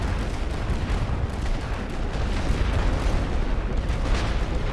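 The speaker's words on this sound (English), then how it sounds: "going to call in another gas barrage on top of the MG" A gas artillery barrage pounds the trenches in The Great War Western Front, a continuous dense rumble of overlapping booms and blasts, loud and unbroken throughout.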